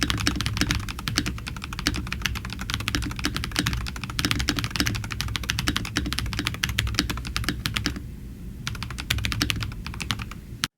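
Rapid, continuous clacking of keys on a Redragon Wyvern K689 Pro mechanical keyboard with foam dampening layers, close up, with a brief pause near the end before the typing resumes.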